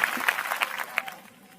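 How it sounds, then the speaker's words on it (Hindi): Audience clapping at a Hindi church sermon, a short burst of crowd applause with a few sharper individual claps standing out, fading away over under two seconds. "इनके लिए ताली बजा दीजिए"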